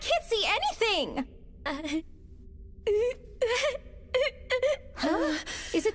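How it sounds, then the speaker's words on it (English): Someone crying nearby, with wavering wailing sobs in several bursts broken by short silences and gasping breaths, loud and close. "Is it just me, or does it sound like someone is crying?"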